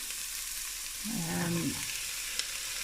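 Onions and celery sauté in a pot for bacon potato corn chowder, a soft, faint, continuous sizzle with a brief scrape near the middle, quiet and steady with no speech.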